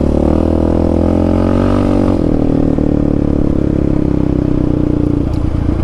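A Yamaha Raptor 700 ATV cruises in fourth gear, its engine a loud, close, steady drone with a slight shift in pitch partway through and rough mechanical clatter underneath.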